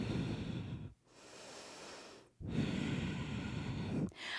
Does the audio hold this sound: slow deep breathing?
yes